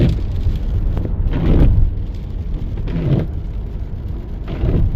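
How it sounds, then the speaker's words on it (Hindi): Heavy rain during a bus ride on the KMP Expressway, heard as a steady broadband wash over a low engine and road rumble, with a few louder swells of spray and drumming along the way. "ज़बरदस्त बारिश होनी शुरू हो गई है।"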